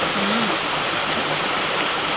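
Dense, steady rainfall roars with no letup, a broad wash of hiss close by, with faint indistinct voices beneath.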